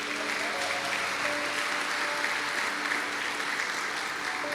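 Church congregation applauding together in a steady, sustained wash of clapping that holds evenly throughout, with faint tonal music or voices lingering underneath.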